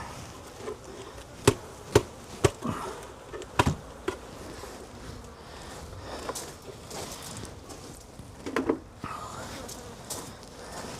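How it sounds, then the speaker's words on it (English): A beehive frame is banged a few times to knock the remaining bees into the hive, giving sharp knocks at irregular intervals over a steady buzz of bees close by. "Just bang these remainder of these bees in."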